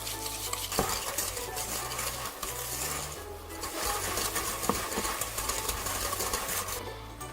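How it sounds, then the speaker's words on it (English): Sugar, butter and avocado oil are worked together in a bowl for fudge cocoa brownie batter, a steady churning, scraping mix over a low constant hum with occasional sharper knocks, no speech. "You're going to mix your sugar and your butter really, really well until it's all combined."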